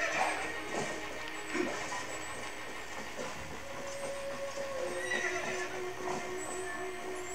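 A horse neighs and whinnies in the Legend of Zelda: Twilight Princess video game, with clip-clop hoofbeats and dense game sound effects and music running steadily throughout.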